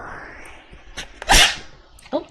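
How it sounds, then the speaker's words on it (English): A kitty gives one sharp, close sneeze in the middle, a sudden loud burst. Soft rustling and a few small clicks come before it, and a brief lighter sound follows. "I didn't mean to jump scare anyone with a kitty sneeze"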